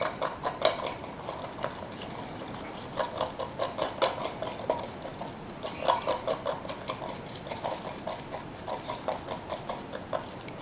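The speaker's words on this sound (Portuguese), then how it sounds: "E vou mexer, incorporar toda a tinta." Turquoise paint mixed in a container with a steady run of rhythmic scraping clinks, close and moderately quiet for several seconds, with no voice over it.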